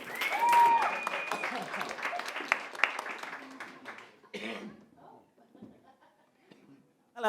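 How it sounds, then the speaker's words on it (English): A musical theatre audience claps and laughs as a singer is introduced. The applause is strong at first, thins out with scattered chuckles and coughs, then quiets into room noise before a short burst at the very end. "give him a huge round of applause."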